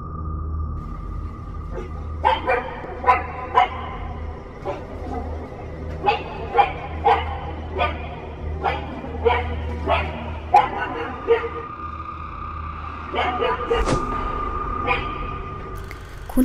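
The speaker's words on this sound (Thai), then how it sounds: "ฉันไม่รู้ว่าสุนัขกำลังเห่าอะไร" A dog barks in a steady series of single barks, slightly distant as picked up by a CCTV camera, over a constant low hum with a person talking partway through.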